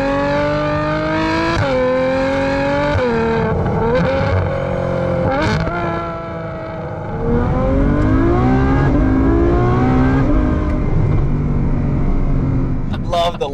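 Ferrari F12 widebody with its stock V12 engine accelerating hard, loud, close engine howl rising through the gears with sweeping pitch climbs and brief dips at shifts, heard from inside the car.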